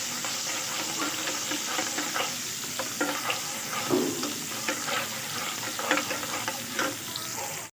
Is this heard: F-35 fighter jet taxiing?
no